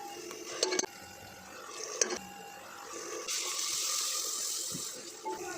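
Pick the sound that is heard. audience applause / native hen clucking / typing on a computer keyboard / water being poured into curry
water being poured into curry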